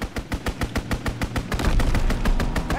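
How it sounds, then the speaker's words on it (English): In a World War II video game, a fighter plane strafes a target with rapid, loud machine-gun fire, a rhythmic string of sharp shots building into a dense rumbling burst. "Fighter pilot inbound, strafing the target."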